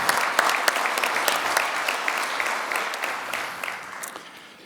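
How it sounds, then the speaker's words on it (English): An audience at a POW-MIA seminar applauds steadily, a dense burst of many hands clapping together that stays loud and then tapers slightly at the end, with no voices over it. "Please join me in a round of applause for their efforts."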